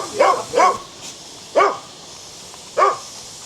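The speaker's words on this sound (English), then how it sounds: "the dogs started getting a bit territorial" Four sharp dog barks ring out at feeding time on Koh Samui, two in quick succession and then two more spaced apart, fairly close over a quiet outdoor background with no talking.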